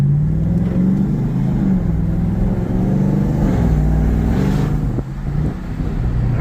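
Ram TRX pickup truck engine pulling hard in sport mode on a busy street: a loud, close, deep engine drone with rising and falling tones as the truck accelerates, and a brief dip before building again.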